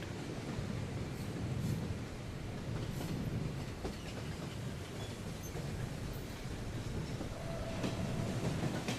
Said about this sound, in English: There was a train, Choo Choo Charlie's, or Charlie or something like that.